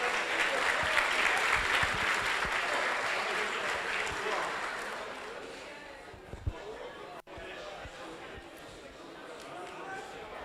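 An audience at a formal constitutional law event applauds as Brazilian Supreme Court minister Flávio Dino is introduced; full, close clapping gradually tapers off, leaving a sharp bump and quieter room noise.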